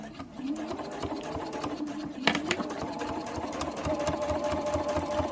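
A sewing machine stitches closed a gap in a fabric cutlery holder, its rapid rhythmic needle thumping running continuously and close by.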